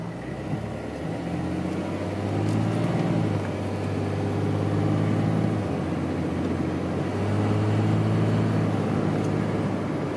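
A Ram 3500 dually pickup with the 5.9 Cummins diesel and a Banks exhaust brake engaged drones as it cruises, a steady loud low rumble with slight pitch shifts as the engine load changes, no talk.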